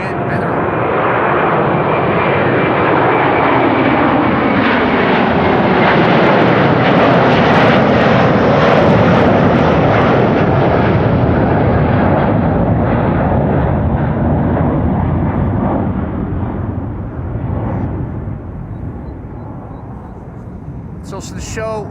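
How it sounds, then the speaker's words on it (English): Delta Airbus A330 taking off at Amsterdam Schiphol Airport: a loud, near jet roar swells and holds for most of the stretch, then slowly fades as the airliner climbs away, with a voice occasionally heard beneath it. "there's also a Delta A330 flight 75 to Atlanta, Georgia taking off here"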